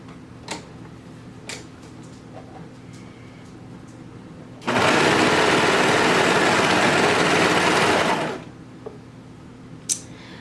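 A sewing machine stitching non-fraying bullet fabric for a skirted bummies garment runs in one steady, loud whirring burst of about four seconds, with faint ticks and handling sounds before and after.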